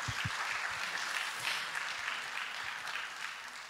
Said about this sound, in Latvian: Jums ir aplausi pašiem sev.